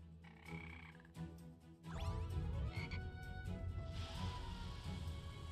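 Frogs croak in a video game, a loud, dense chorus of repeated croaks that starts thinly and swells abruptly about two seconds in, then continues steadily with no talking.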